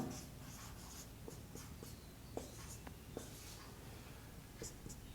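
Chalk or marker writing on a board during a university number theory lecture, faint scattered taps and short scratchy strokes over a quiet room hum, with no voice heard.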